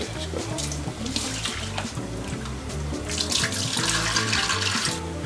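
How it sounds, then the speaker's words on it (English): Tap water runs steadily into a sink while rice and pulses are washed for bhuna khichuri, a continuous close splashing stream with no talk. "So maybe I can go for washing the rice and pulses."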